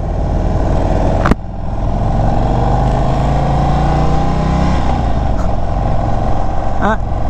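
A 2022 Indian Chief Dark Horse cruiser motorcycle with a quiet stock exhaust accelerates on the road, giving a steady deep engine drone with wind rush throughout and a sharp click early on.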